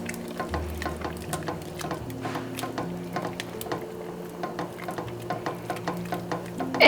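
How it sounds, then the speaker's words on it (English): Vegan chicken-style noodle soup with bean cream being stirred in a pot, giving soft wet sloshing and light scraping strokes in a steady rhythm, close and fairly quiet, with no talking. "I'm gonna stir it in actually."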